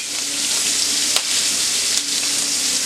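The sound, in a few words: blackened Cajun shrimp searing in a pan after flipping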